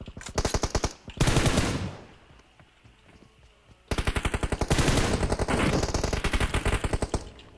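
Machine gun fire in the mobile battle royale game PUBG Mobile: long, fast automatic bursts, loud and close, broken by a quieter gap of a few seconds before firing resumes and continues steadily.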